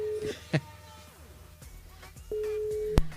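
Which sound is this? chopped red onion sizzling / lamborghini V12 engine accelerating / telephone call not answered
telephone call not answered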